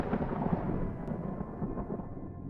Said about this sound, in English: It's the thunder.